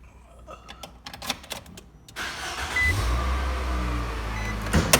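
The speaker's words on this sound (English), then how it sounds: "we're going to go ahead and start this vehicle up" A 2018 Nissan NV200 van starts up: a few clicks and clunks, then the engine cranks and catches, settling into a steady, close idle hum.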